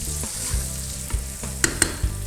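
Vegetables including green pepper fry in a hot pan, a loud continuous sizzle with a few sharp clinks of stirring utensils against the pan, no voices.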